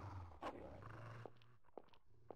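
Hungry dogs in a horror RPG video game growl low and steadily through the first stretch, a rumbling snarl that gives way to a few short, sharp yaps or snaps near the end.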